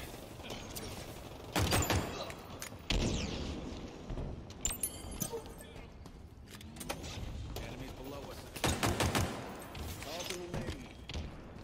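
Gunfire from Halo Infinite comes in a few sharp bursts spread through the stretch, mixed with game effects and frequent talking over the action.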